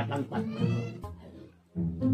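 A hungry cat belonging to an elderly woman meows repeatedly close by, several drawn-out cries in a row with a short gap before the last one.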